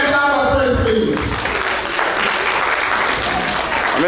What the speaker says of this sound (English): everybody clap for Prince, please